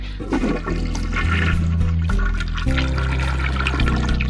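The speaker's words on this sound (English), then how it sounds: "Flush the toilet" A toilet flushing in the Ben Jordan paranormal investigator video game, a loud continuous rush and gurgle of water lasting several seconds with no talking.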